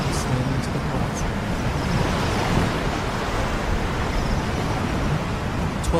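Ocean waves off Dutch New Guinea, a steady broad wash of surf that holds an even level throughout, with no voices, just continuous rushing water.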